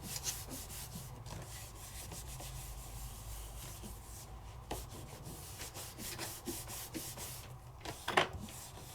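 Hands rubbing across paper to press down a stamped image made with mica powder, giving a continuous soft close-up scraping rub with a few brief louder strokes near the end.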